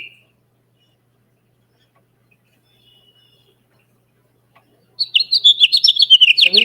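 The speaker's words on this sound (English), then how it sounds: "So we can see that little bird in the tree." A small bird's song played back from a video, bursting in near the end as a rapid, loud series of bright chirps and trills after a long near-silent stretch.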